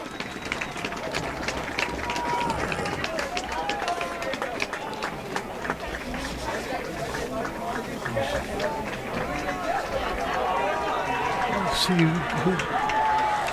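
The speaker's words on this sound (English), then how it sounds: "Getting a nice round of applause." At a high school boys' soccer semi-final, spectators give scattered, sustained applause as an injured player leaves the field. The clapping mixes with crowd murmur, and a commentator talks over it.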